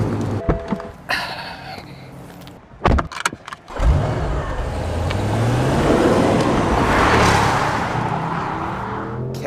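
An Audi S6 accelerates hard, its engine rising steadily in pitch after a few brief knocks and clicks, growing loud and sustained with road and wind noise, then holding a strong drone to the end.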